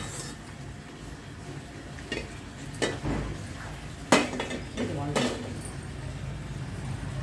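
Cumin and garlic being pounded in a stone mortar for gongura chutney, several irregular knocking and clinking strikes spaced a second or so apart over background room noise, with a voice speaking intermittently.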